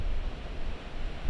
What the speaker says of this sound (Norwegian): Ikke sant, her kommer vinden.